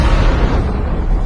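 A massive asteroid striking Earth, rendered as a loud, sustained deep rumbling blast with heavy low-end roar and no distinct onset, filling the whole moment without any voices.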